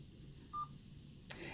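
A blood glucose meter gives a short electronic beep, a single clean tone, over a quiet background hum, followed by a brief soft rustle.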